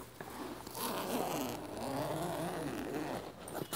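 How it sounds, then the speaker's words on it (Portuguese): A zipper being pulled along a padded drum bag made by Harmonia Bolsas, a steady continuous rasp of a few seconds, close and fairly quiet with no talking. "Tem zíper."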